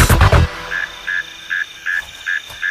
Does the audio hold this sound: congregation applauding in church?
no